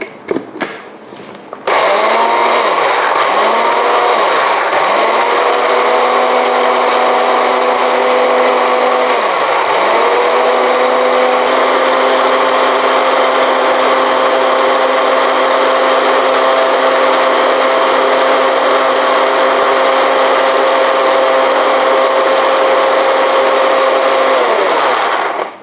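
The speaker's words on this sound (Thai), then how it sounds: "น้ำปลาค่ะและน้ำมะนาวนะคะจากนี้ก็คือปั่นเท่านั้นค่ะ" A blender purées a Thai seafood dipping sauce with fish sauce and lime juice, running loud and steady for about 24 seconds after a short start, its motor pitch dipping briefly a few times as the mixture shifts.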